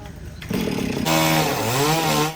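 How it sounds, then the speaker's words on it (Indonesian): A chainsaw cuts through a fallen tree trunk on a road, revving loudly and close with rising and falling engine pitch, with a voice talking over the start. "mereka menggunakan gergaji mesin."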